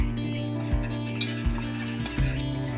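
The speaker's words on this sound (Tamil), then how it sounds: "இது கூட கொக்கோ பவுடர் 2 டீஸ்பூன், அப்புறமா அகர் 2 டீஸ்பூன் இதை சேர்த்துட்டு இதை நல்லா கலந்து கொடுத்துடலாம்." A spoon stirs cocoa powder and agar into water in a pot, producing close, loud scraping and swishing with a few sharper knocks against the pot, continuous with no talk.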